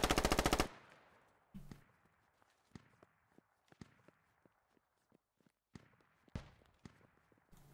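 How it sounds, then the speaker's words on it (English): Gunfire in the tactical shooter Squad: a loud opening machine-gun burst, then scattered distant shots and footstep-like thuds across a quiet urban soundscape, with another sharp shot near the end. "Oh, they're shooting from somewhere."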